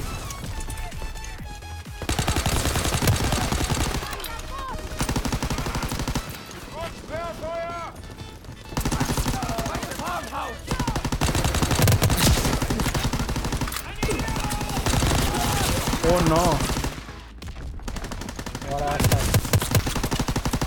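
Rapid bursts of gunfire from Call of Duty: WWII online multiplayer, including shotgun blasts, recur loudly amid dense game sound effects and music, with players chatting over the action throughout.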